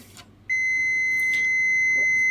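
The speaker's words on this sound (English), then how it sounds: "on diode setting, they should beep" A multimeter on its diode setting tests the large white low-resistance resistors in an Ampeg SVT-4 PRO bass amp. A single steady, loud electronic beep starts about half a second in and holds unbroken to the end, with no talk.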